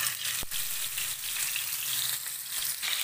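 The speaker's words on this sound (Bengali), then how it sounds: "তেল গরম হয়ে গেছে, তো আমি তেলের মধ্যে মাছগুলো দিয়ে দেব।" Pieces of rohu fish fry in hot oil in a wok, making a loud, continuous sizzle and crackle up close, with one sharp spatter pop near the start and no voices.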